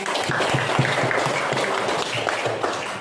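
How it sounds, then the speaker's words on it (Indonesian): Classroom applause after a student answers a question about religious, ethnic and group issues, a dense steady clatter of many hands sustained for three seconds with some murmuring underneath. "Oke, tepuk tangan dulu."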